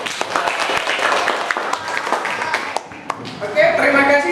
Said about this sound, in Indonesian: aplaus untuk Zia